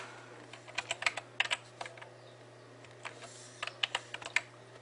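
Typing on a computer keyboard while entering a password on a Mac, heard as two bursts of quick, moderately loud keystrokes with a pause between them, over a steady low hum and no talk.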